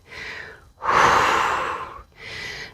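Deep breathing during a yoga strength and mobility routine: a short exhale, then a long, loud, close inhale and a softer breath after, clear and alone.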